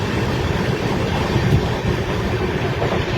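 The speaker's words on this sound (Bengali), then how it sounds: "ট্রেন তার সর্বোচ্চ গতিতে পৌঁছাতে চলেছে।" A train runs at top speed through the Barsoi curve in North Bengal, giving a loud, steady roar of wheels on rails with faint rhythmic clatter, heard from on board.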